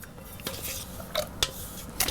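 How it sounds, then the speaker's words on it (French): A utensil scrapes and clinks against a saucepan in uneven strokes while stirring milk and cream for crème anglaise, with a few sharper metallic taps standing out, fairly quiet and close. "en prenant soin de bien remuer à chaque fois"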